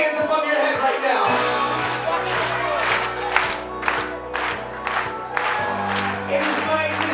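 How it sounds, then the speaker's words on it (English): Party guests at a quinceañera clap hands above their heads amid crowd cheering and whoops, steady and loud throughout, with a booming DJ music bed underneath. "let's start clapping those hands above your head right now"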